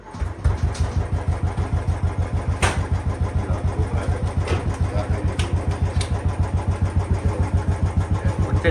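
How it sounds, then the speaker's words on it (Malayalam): A motorcycle engine fires up quickly and settles into a steady, close, rhythmic idle with even thumping pulses throughout, with no talk over it. "ഞാൻ എൻ്റെ ബൈക്ക് ഓണാക്കാം."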